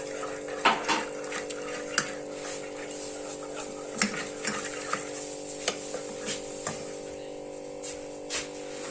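Milk pours gradually into a pot, a soft continuous liquid wash with scattered light clinks and taps over a low steady hum, fairly quiet and close.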